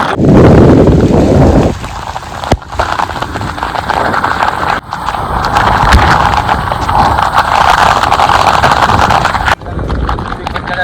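Heavy monsoon rain near Kasarsai Dam, a loud dense wash of rain noise that roars continuously with a few sharp knocks and dips, heard up close and alone.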